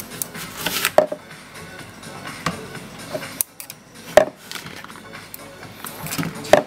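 A knife slices through food on a cutting board, giving a few sharp, distinct cuts spaced seconds apart over a soft, continuous background.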